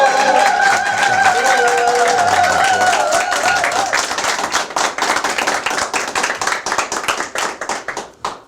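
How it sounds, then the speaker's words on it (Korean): A lecture audience gives loud, close applause to welcome a professor. Dense clapping thins into scattered individual claps and taps toward the end. "스승님의 강의를 큰 박수로 듣겠습니다."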